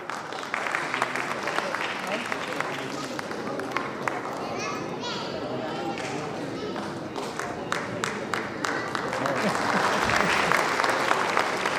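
A crowd at an award ceremony for sanitation honours in Varanasi applauds steadily, dense clapping from many hands running throughout, with voices and children's chatter mixed in and the clapping swelling louder toward the end.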